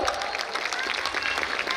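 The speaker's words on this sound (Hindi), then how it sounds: "Please give a huge round of applause." Applause from the audience at a school annual function, a moderately loud, busy patter of many hands that runs the whole short stretch, with some crowd noise mixed in.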